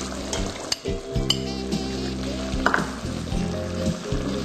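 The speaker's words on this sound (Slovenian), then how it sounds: "gljive smo očetkali, narezali na pločke, dodamo ih u lonac" Sliced brushed mushrooms dropped into a pot of simmering chicken Marengo, a soft sizzle and bubbling with scattered clinks of utensils against the pot.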